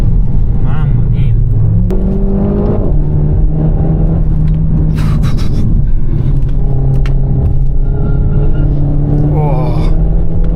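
Renault Megane RS Trophy hot hatch engine droning steadily through a corner, a continuous low rumble with shifting tones and a brief higher whine, recorded from inside the car with no talk over it.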